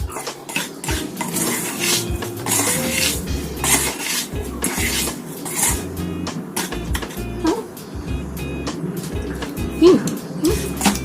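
Garlic and curry leaves frying slowly in a pan for cereal prawns: busy clatter of a utensil knocking and scraping the pan in an irregular rhythm over low sizzling, close and fairly loud, with a little background talk.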